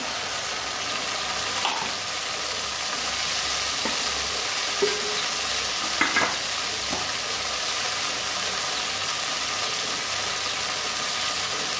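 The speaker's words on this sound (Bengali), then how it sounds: "দিয়েছি 3টে লঙ্কা ফাটিয়ে দিচ্ছি। দিয়ে দেবো মশলার জলটা।" Spice water poured into a hot pan of fried chillies for a lentil and potato dish, a steady loud sizzle and hiss that runs on evenly with a few faint clinks and no talk.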